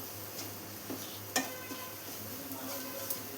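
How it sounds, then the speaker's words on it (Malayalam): Okra and potato fry being stirred in a pan over a low flame, with a soft sizzle, a few light scraping clicks of the spoon against the pan and one sharper tap midway. "ലോ ഫ്ലെയിമിൽ വെച്ചിട്ട് ഇതുപോലെ ഒന്ന് മിക്സ് ചെയ്ത് കൊടുത്താൽ മതിയാണ്"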